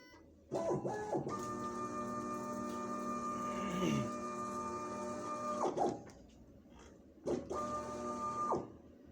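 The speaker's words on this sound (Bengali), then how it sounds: "আমরা চালু করে নিলাম আমাদের টেমপ্লেট কাটিং মেশিন" A garment pattern template cutting machine switches on with a motorized whir and hums steadily for about five seconds, stops, then runs again in a shorter second burst, with faint background voices.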